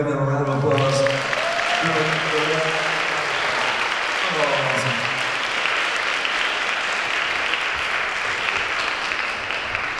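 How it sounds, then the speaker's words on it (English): An audience applauds at a We Are the World 2019 event, a dense wash of clapping that builds under a few seconds of talk and music and then carries on steadily on its own. "Can we all give them a round of applause?"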